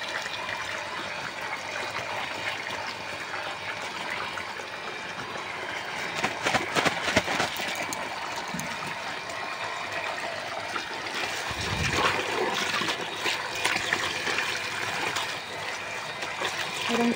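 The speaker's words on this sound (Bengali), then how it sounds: "এবার একটা করে ভালো করে মেলায় মেলায় ধুয়ে নেব" Taro (kochu) leaves washed one at a time in water, a steady trickling and splashing with a louder swishing burst near the middle, close by and continuous.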